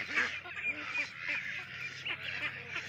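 Ducks on a Thai duck farm, including black Pak Nam ducks, honk and quack in overlapping nasal calls from a flock at moderate distance, steady and continuous.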